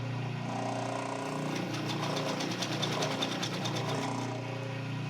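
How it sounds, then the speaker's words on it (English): A sewing machine runs steadily and close by, stitching a quarter-inch seam at slow speed with a continuous rapid mechanical chatter that builds slightly mid-run and then eases. "I'm going to sew on 1/4 inch seam allowance. I'm going to sew slow"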